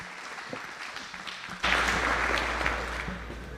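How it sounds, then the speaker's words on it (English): Applause for the organizer at an archery World Cup Final draw ceremony bursts in partway through, following a quieter stretch, and continues as moderately loud clapping from a gathered crowd. "Let's give him a round of applause."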